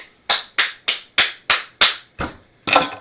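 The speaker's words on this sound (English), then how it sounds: "I'm clapping at my own cards." One person clapping their hands alone, eight sharp, close, evenly spaced claps at a slow steady rhythm with a brief pause before the last two, no talking.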